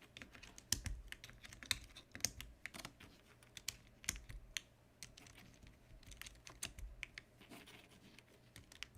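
Typing on a Neo 98 keyboard fitted with Kikobo Signet ABS keycaps, six-and-a-quarter-unit spacebar: steady, dense, slightly clunky clacks at close range, continuous throughout with no talk.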